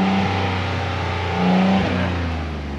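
A Ford Bronco Wild Trak engine revving in short bursts: a steady idle rises into a brief rev bomb near the middle, then settles back, all fairly close and moderately loud.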